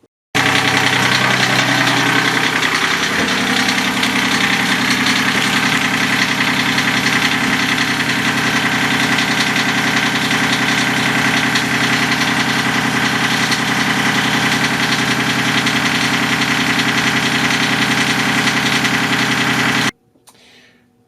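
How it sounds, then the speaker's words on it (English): A steady, loud boat engine idles continuously with a low rumbling drone and slight vibration, running alone until it cuts off abruptly near the end. "the engine's running with my preliminary wiring test"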